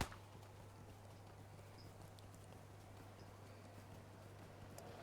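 Horse hooves in the video game Lord of the Rings Online, a faint, steady patter of clip-clopping under a low continuous hum, no talking.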